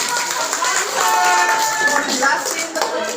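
A group of adults at a community stunting-awareness session in Bekasi bursts into dense, steady applause that fills the whole moment at close range, with voices mixed into the clapping.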